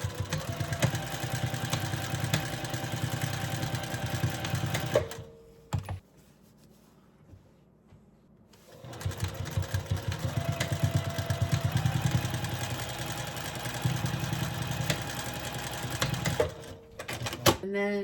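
A sewing machine stitching a quilt block in quick bursts, running steadily, stopping for a few seconds of near silence, then whirring again for short stitches and back stitches.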